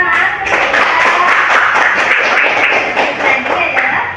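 Classroom applause after a student's biography presentation, a close, lively round of many hands clapping with fast irregular claps that carry on for several seconds at a fairly even loudness.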